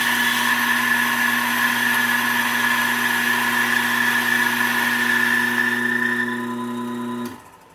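An espresso coffee grinder grinds a single dose of 14.5 grams of beans with a steady, loud motor whine that lightens as the beans run out, then cuts off abruptly near the end.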